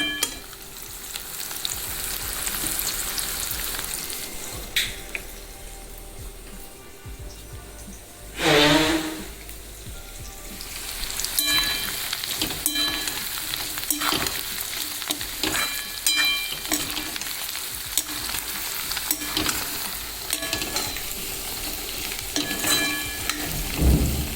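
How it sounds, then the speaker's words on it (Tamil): Garlic cloves fry in oil for a white garlic pickle, a continuous close sizzle with repeated stirring scrapes and clinks of a spoon against the pan, briefly louder midway as the garlic is tossed, no talk. "ஒரு அஞ்சு நிமிஷம் கிண்டிக்குவோம் பூண்டு கொஞ்சம் வேகணும்"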